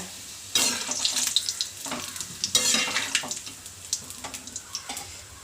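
Bitter gourd kondattam is being fried in oil and stirred, with crackling sizzle and irregular scraping stirs in bursts, close by and without speech.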